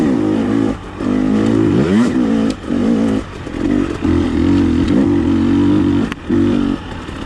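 A 2021 300XC two-stroke dirt bike engine runs in third gear at low speed on a mountain trail, its buzzing drone rising and dipping with short throttle blips and pauses.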